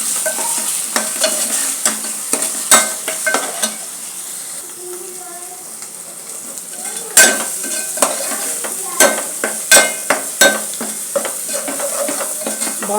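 Biryani masala fries in a pan with tomatoes for a Kadapa-style chicken pulao, a continuous sizzle broken by repeated sharp scrapes and clinks of a spoon stirring against the metal.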